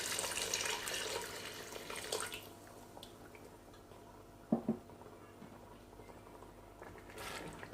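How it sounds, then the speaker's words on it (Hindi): Water from a glass is poured into a cooking pot of fried chana dal and chicken, a soft splashing rush at the start that fades to quiet bubbling and a few faint clinks, low in level. "अब इसमें मैं 3 गिलास पानी ऐड करूँगी।"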